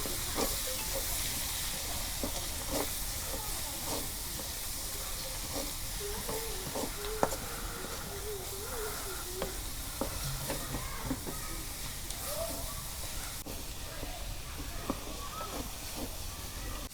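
Leafy greens frying in hot oil in a pan, a continuous close hiss and sizzle with scattered stirring scrapes throughout, no talk.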